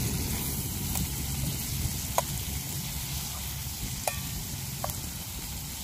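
Food sizzles steadily in a pan over a village cooking fire as it is stirred, with a few sharp scraping clinks of the utensil against the pan standing out over the continuous frying hiss.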